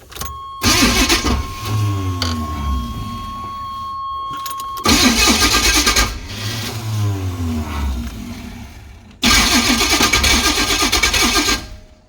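A Chevrolet C10 truck's 383 V8, first started after sitting over ten years, cranks and fires three times in a row, each start catching into a loud, close revving run before it cuts off, with brief quiet gaps between attempts.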